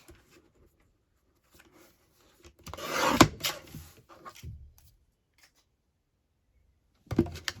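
Paper being trimmed for a craft project, heard as a quiet rustle and a brief cluster of cutting and rubbing noises in the middle, with another short burst near the end and near silence between.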